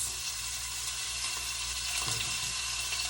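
Prosciutto-stuffed chicken sears in a hot pan with a steady, even sizzle that holds unbroken and close throughout, with no talking.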